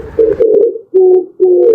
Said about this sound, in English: I am pigeon.